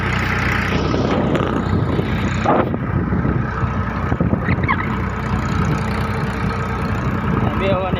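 A small tractor engine chugs at a steady low idle nearby while people talk over it.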